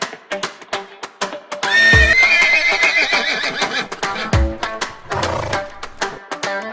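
A cartoon horse neighs loudly, a long quavering whinny lasting several seconds, set against rhythmic clopping and busy background music.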